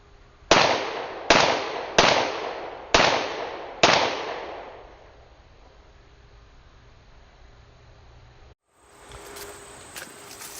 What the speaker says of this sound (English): Let's try 5 more shots from 25 yards.